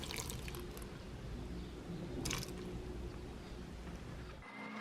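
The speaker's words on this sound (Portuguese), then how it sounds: "E vou adicionar 40 ml de água filtrada." Forty millilitres of filtered water poured into a blender with kibbeh paste ingredients, a soft trickling splash over low background noise, with a few brighter bursts before it stops abruptly.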